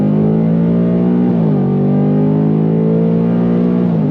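A 2025 Ford Mustang GT with its V8 pulling hard on throttle: a steady, loud engine drone whose pitch rises smoothly, eases briefly around a shift, then climbs again, heard from inside the car with no talking.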